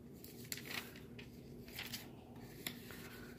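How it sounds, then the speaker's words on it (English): Aluminium foil being pulled and pressed over a baking dish, giving soft crinkling and rustling with a few sharper crackles, close and fairly quiet, no talking. "So I want to put the foil over it."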